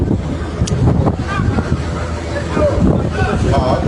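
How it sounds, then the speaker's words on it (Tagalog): Strong wind buffets the microphone in a loud, continuous roar near a port, with voices talking faintly underneath. "sobrang lakas ng hangin"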